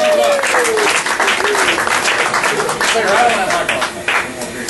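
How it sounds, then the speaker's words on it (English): Loud, steady applause from an audience at a family roast, sustained for several seconds with a voice speaking over the clapping. "A round of applause."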